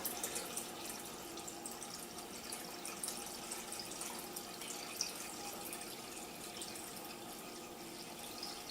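Steady rush of running water pouring into an aquarium tank, continuous and fairly close, with a bright splashing hiss throughout and no voices.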